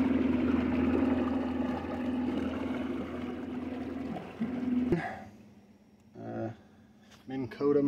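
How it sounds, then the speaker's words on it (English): A Minn Kota electric trolling motor runs on a boat, a steady low hum with water noise that cuts out about two-thirds through, followed by short voice bursts over a quieter background. "Minn Kota motor"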